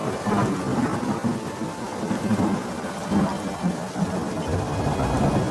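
Heavy rain pours down in a flood scene while thunder rolls repeatedly, dense, continuous downpour with deep rumbling surges, loud and without talk.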